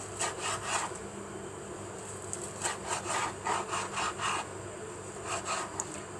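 Cooked salted fesikh fish being sliced into pieces with a knife, giving a run of rough, rasping, sawing strokes at close range that come in rhythmic bursts with short pauses between them.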